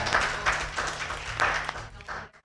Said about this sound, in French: Arrêtez d'applaudir, c'est pas lui qui l'a fait.